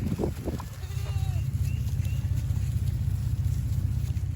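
Goats bleat a few times in short, wavering calls near the start, over a strong, constant low rumble like an engine or fan that runs throughout.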